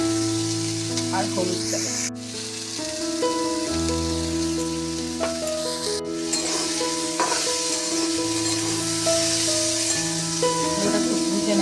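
New potatoes for Bengali alu bhaja sizzle and fry steadily in a pan, a continuous bright crackling hiss across the whole stretch, with a voice speaking briefly over it and faint tonal background music.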